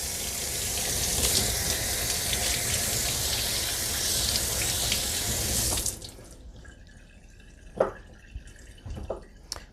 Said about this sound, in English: I'm just gonna rinse them off.